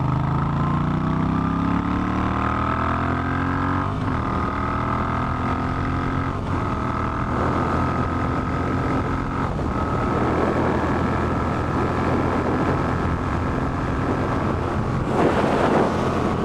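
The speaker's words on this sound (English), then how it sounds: "this motorcycle accelerates just fine to get on the interstates here in the US" A Moto Guzzi V7 III Carbon Shine motorcycle engine revs and climbs steadily through the gears up a highway on-ramp, its drone rising in pitch under heavy wind rush.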